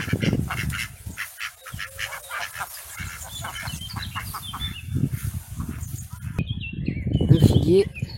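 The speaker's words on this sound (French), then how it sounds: "Ne bougez pas les canards, je passe." Ducks quack and honk near a garden path in mid-April, irregular calls rising and falling, with a louder burst of honking near the end.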